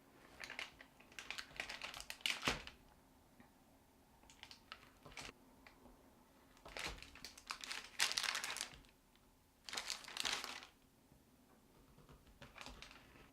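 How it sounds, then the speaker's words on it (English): A knife cuts a slab of chilled date caramel into squares in a quiet kitchen, making faint crinkling, tapping bursts in separate clusters with pauses between them. "so I'm just going to cut it into squares"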